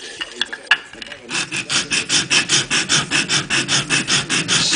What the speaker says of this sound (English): Sand across where the slide guide material is.